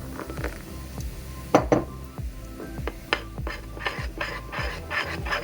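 A utensil stirs thick beer batter for vegan fish tacos in a bowl, giving irregular scraping clinks and knocks against the sides, some sharper taps standing out, close and fairly loud with no talking.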